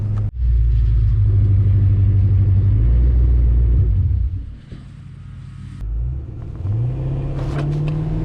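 A 40-year-old Porsche 928S accelerates hard, its V8 engine roaring loudly and steadily with deep rumbling revs, easing off briefly mid-run before building again as the car drives on.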